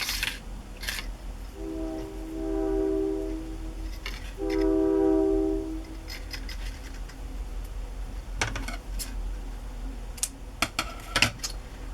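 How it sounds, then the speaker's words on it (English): A train horn sounds in two long, steady blasts in the distance, separated by a short pause, with faint tapping and clicks around them. "Yep, I hear the train."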